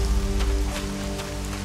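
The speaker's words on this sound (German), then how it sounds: "Irgendwie kann sich der Regen gerade nicht entscheiden, soll er oder soll er nicht." Steady rain falling in the video game ELEX, a continuous dense patter of drops on surfaces with a low ambient rumble underneath, even and unbroken throughout with no talking.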